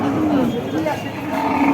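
A native-breed dairy cow at a cattle market moos in a long, drawn-out low call, loud and close, with a second lowing swell toward the end.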